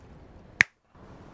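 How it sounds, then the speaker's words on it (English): A single sharp finger snap rings out close and crisp, standing alone against a low background hum, followed by a brief hush before the faint room noise returns. "I'm just gonna go ahead and snap my fingers"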